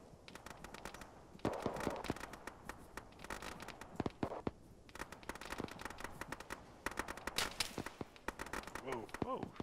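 Rapid, continuous gunfire in the military game Arma during a ShackTac squad firefight, with dense cracks and bursts at varying distances and voices talking over the shooting.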